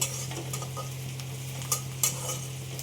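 Lightly browned onions fry in a pan with a soft, even sizzle, broken by a few scraping stirs and two louder spatula knocks near the end, over a faint steady hum.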